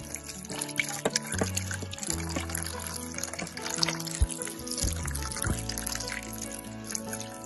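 Cold water pours over dried bamboo shoots being readied for pickling, making a soft, continuous trickle and splash under background music.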